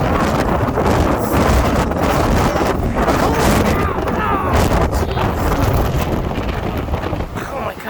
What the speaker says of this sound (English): the wind is really blowing this evening